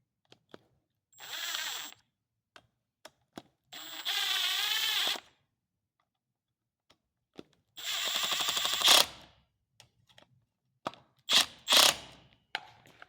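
Cordless driver with a T27 Torx bit running bolts into a Husqvarna 525 string trimmer, in several short separate whirring bursts with quiet gaps and a few light clicks between them.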